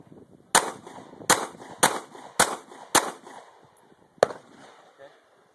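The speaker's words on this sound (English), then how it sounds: "I'm going to take about 5 shots with the 9mm Glock 19 from about 10 feet." Six sharp, loud 9mm Glock 19 pistol shots ring out at roughly half-second to one-second intervals from about ten feet against a Level IV body armor plate, each a crisp crack with a short decay, with a longer pause before the last.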